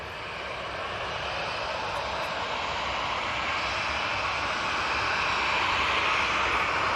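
A TUI Boeing 787-9 Dreamliner arriving from Cancun to land at Manchester Airport, heard as a steady, broad jet roar that builds slowly as the aircraft approaches, with no talk over it.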